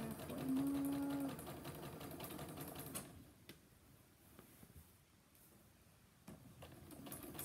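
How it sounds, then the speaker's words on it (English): Janome sewing machine stitches a satin pillowcase, a steady mechanical whir for about three seconds, then stops, leaving quiet room noise with a few faint clicks and fabric handling sounds. "I love my Janomes."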